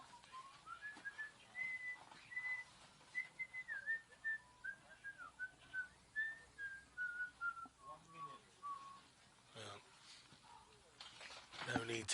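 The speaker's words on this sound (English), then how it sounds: "There's the Kirker whistle." A person whistles a steady wavering tune at the start gate of a para alpine giant slalom race in Juzhno-Sakhalinsk, the melody running several seconds at moderate volume amid outdoor crowd noise and commentary.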